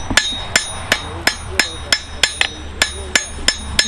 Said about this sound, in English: You can use it on a hammer